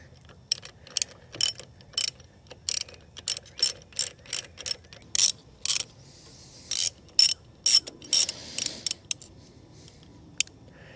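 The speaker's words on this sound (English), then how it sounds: "I'm gonna use the ratchet instead of the impact." Close, crisp ratchet clicking in short repeated bursts as a stud is loosened on a Kawasaki H1 500 Mach III motorcycle that sat unused for 42 years, with brief pauses between strokes and no talking.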